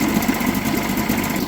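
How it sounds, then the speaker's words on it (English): A 1975 Mercury 7.5 hp two-stroke outboard boat motor, after sitting 30 years, idling steadily with a fast, buzzy, slightly uneven burble, close and alone. "It's got the sweet little two-stroke boat motor wiggle going on."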